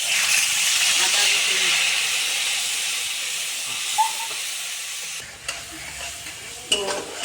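Ginger garlic paste hits hot oil left from frying potatoes for a Bengali chicken curry, a steady bright sizzle and hiss with stirring scrapes, softening near the end as a few utensil clinks break through.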